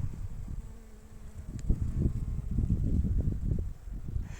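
Bees hum softly around a blooming plum tree outdoors, a faint continuous buzz with fluctuating intensity and light rustling, no voices.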